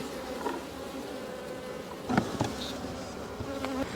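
Honey bees buzz faintly and continuously around a hive, with a few brief louder buzzes as individual bees fly past close by.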